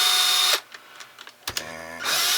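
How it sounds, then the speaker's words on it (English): Power drill spinning to twist wire into miniature 1:6 scale barbed wire: a loud steady whine that cuts off, short taps and clicks, then the motor winds back up. "take my drill, and start twisting the wire"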